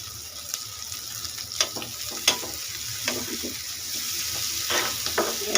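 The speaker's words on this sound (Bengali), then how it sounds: "পেঁয়াজ দিয়ে দিয়েছি আমি, আর একটু তেল লাগবে, একটু তেল দিয়ে দিলাম।" Onions fry in oil in a home kitchen pan, a soft steady sizzle with scattered spatters and a few light stirring scrapes, close and moderately quiet, with no talking.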